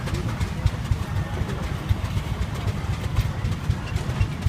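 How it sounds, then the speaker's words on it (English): A steamroller in a tractor parade at the Lynden Tractor Show runs with a steady, low rumbling engine chug, continuous and moderately close, with no talking. "It's a steamroller."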